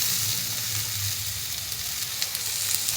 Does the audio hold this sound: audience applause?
no